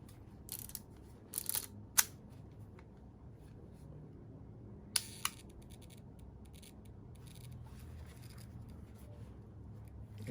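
An Olympus-S 35 rangefinder camera's shutter fires in a couple of sharp, close clicks, separated by softer handling scrapes and a low room hum.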